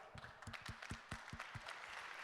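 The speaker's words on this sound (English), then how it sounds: "give yourselves a round of applause" Audience applause at the opening ceremony of a bleeding disorders conference in Atlanta, a moderate burst of clapping with several distinct claps standing out over a fainter, steady crowd patter.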